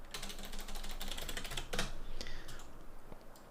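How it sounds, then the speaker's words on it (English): Quick bursts of clicky keystrokes on a computer keyboard, close and fairly crisp, with a brief pause and then a few more taps, no talk. "let's just going to hit tab and type retime"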